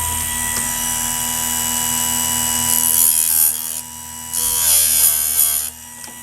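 A Chicago Electric chainsaw sharpener hums steadily, then grinds a saw chain in two harsh, hissing bursts that rise over the motor drone and drop away between passes.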